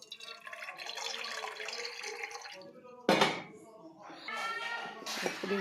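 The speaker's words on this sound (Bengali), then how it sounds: "নিয়ে নিলাম, এখানে দিয়ে দেব জল।" Water pours into a pot set up for steaming dhokla, a rushing splash with some metallic clatter, broken by a sharp burst midway, with a voice over part of it.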